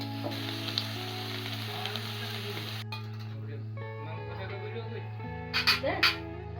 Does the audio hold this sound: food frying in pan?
yes